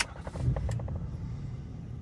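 A Ford 6.7 diesel truck engine cranks and catches, with a few quick rhythmic turnover pulses before it settles into a steady, smooth low idle, heard up close and alone.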